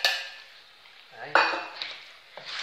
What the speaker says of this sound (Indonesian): Saya ulenin pakai sendok.